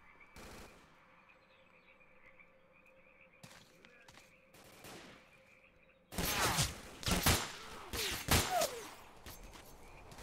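Gunfire in the PC game S.T.A.L.K.E.R.: Call of Pripyat with the Misery mod: faint distant shots early on, then loud close rapid bursts of automatic fire in the second half.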